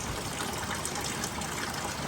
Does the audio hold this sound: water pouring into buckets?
yes